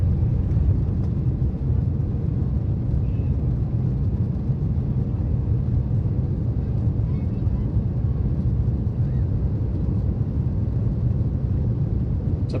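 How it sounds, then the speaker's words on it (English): Steady, loud rumbling roar of a passenger plane rolling down the runway after landing at Ayers Rock Airport, heard from inside the cabin as an unbroken engine and road drone. "We have landed, a bit of a hard landing."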